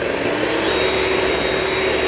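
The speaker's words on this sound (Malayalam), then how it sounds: "ഇതും കൂടി ഒന്ന് ജസ്റ്റ് മിക്സ് ചെയ്ത് കൊടുക്കാം അല്ലേ." Strawberry cake batter is beaten in a steel bowl, producing a loud, steady, unbroken mechanical whirr that runs alone for the whole moment.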